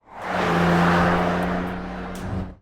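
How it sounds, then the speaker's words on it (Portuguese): A Renault Clio V6 engine revs in a single loud, rising burst that swells quickly and then eases off, with a sharp harmonic edge, heard alone without talk. "o som glorioso do V6, agora ainda mais agudo e viciante à medida que subia de rotação"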